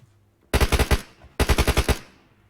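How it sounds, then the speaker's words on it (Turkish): Automatic gunfire in an online shooter game rings out as two sharp bursts of about six rapid shots each, loud and close, separated by a brief pause. "Bin, bin mermi falan vurdum"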